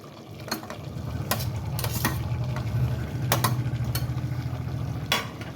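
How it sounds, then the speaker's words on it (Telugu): A spoon scrapes and stirs spicy Telangana-style chicken with chopped tomato in a pan, making a steady soft sizzle with repeated sharp metallic clicks against the pan. "టమాటా కూడా వేసుకున్న తర్వాత కలుపుకోవాలండి"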